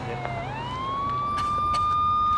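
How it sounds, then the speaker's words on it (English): An ambulance siren in a police drama rises into a steady wailing tone that grows louder as it arrives, continuous and close by the end. "The ambulance is here now."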